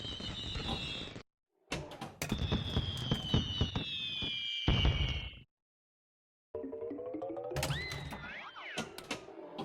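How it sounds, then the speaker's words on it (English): Electronic arcade-style fireworks sound effects from the Junk Yard table in Pinball FX3: bursts of crackling pops and bright rising tones, broken by brief silences, with sparkling high chimes near the end. "Fireworks collected."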